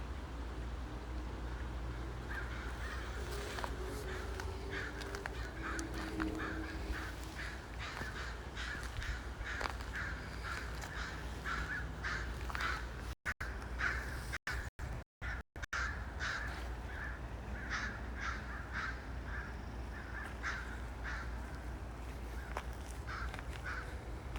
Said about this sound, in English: those crows are making all kinds of noise